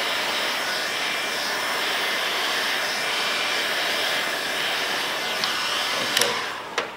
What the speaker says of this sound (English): I'm gonna just blow some air under, come back, blow some air under, come back.